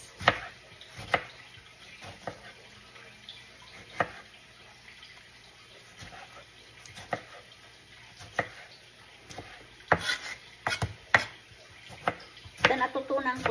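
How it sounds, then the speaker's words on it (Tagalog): A knife chops tomatoes on a board while Indian food is prepared at home. The chops are quiet and irregular, with sharp taps that come faster toward the end over faint kitchen background noise. "hiwa tayo ng pagkarami-raming kamatis"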